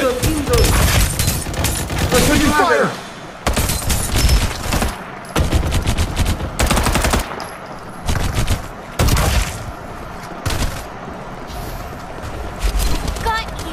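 Rapid gunfire from the video game Farlight 84, loud bursts of automatic shots repeating in clusters with brief gaps, mixed with in-game voice callouts.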